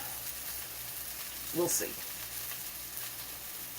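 Small flat-iron steaks frying in a pan give a steady, quiet sizzle, with a brief louder crackle partway through; a voice speaks briefly over the cooking.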